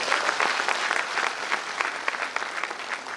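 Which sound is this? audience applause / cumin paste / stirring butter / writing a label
audience applause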